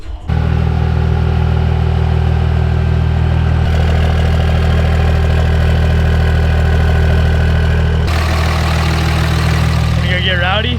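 A 3rd gen Cummins diesel engine in a regular cab, four-wheel-drive pickup idles loud and close with a steady low rumble and diesel clatter. The tone shifts in level partway through and again near the end.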